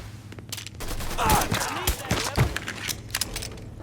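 Gunfire in the video game Mafia 3 plays as rapid, booming shots amid dense battle noise, loud and close, with scattered sharp cracks through the fight.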